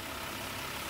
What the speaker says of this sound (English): the van is bleeding off pressure right now